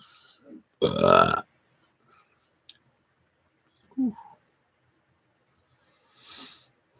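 A deliberate burp, loud and short near the start with a harsh raspy texture, followed by two fainter, brief vocal bursts spaced over the following seconds, with near-silence between them.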